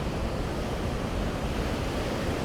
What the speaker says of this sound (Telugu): అలలతో సముద్రం ఉప్పొంగుతుంది.